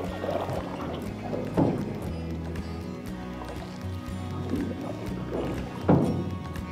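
Several canoe paddle strokes, including a forward sweep, swish and splash through water at an unhurried pace, close by.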